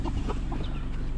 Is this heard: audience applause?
no